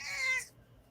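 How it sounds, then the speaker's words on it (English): An upset cat that has just been picked up gives one short, high, strained meow, close and clear, which cuts off abruptly into quiet. "that cat sounded so upset"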